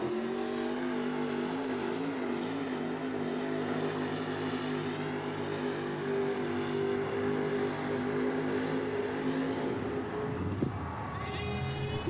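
A modified-class pulling truck, formerly a super stock truck, roars loudly and steadily as it drags a sled at a 1987 USHRA event in Oakland, with the engine note sagging near the end.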